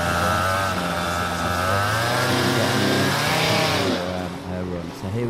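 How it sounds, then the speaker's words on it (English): A paramotor engine warms up at a world paramotor slalom championship, running loud and close with a steady buzzing drone that rises in pitch, then eases back near the end, while voices talk over it. "there we go, we've got it fired up now to give a little bit of power just to get the engine warmed up"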